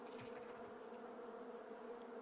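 A dense swarm of bees drones in the game Island Beekeeper, a continuous steady buzz that holds at an even, moderate level throughout with no speech.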